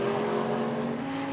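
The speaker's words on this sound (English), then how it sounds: "through goes the number 88 Mercedes onto the Group GTH leading McLaren" GT race cars, including a Mercedes and a McLaren, running at Donington Park on the approach to Redgate Corner, heard as a steady, loud engine drone with a sustained tone and no clear pass-by swell.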